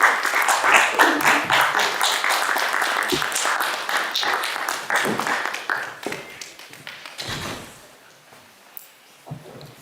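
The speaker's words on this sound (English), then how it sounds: "A round of applause for him," Audience applause welcoming an event convener at a motivational talk, a dense wash of many hands clapping that stays loud for several seconds, then thins to scattered claps and fades out.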